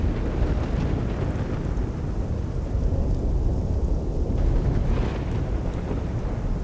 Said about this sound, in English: this is the heavy thunderstorm. We have rain, can turn it on maximum.